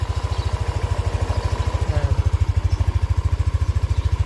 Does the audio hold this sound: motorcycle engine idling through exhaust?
yes